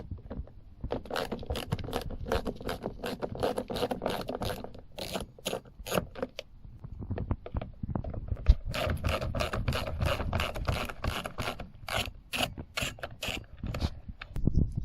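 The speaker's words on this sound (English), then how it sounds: "undo the two screws, one here and one there, the T25s" Two T25 Torx screws are backed out of a Smart car door panel: dense scraping, rubbing and clicking of the driver bit, close and steady, with a brief pause partway through and no talk.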